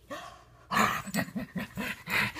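A young dog lets out a run of quick, close barks and yips in rapid succession after a brief whine.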